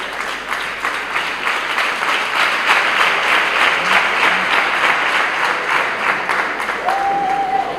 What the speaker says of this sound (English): Stand up and clap all the head teachers.